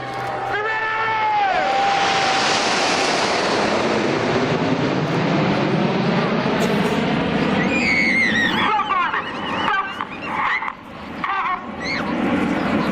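Red Arrows jets passing over an air show at Southport, a loud sustained roar that swells and sweeps across with a falling whine, later broken into choppy pulses as the formation moves away.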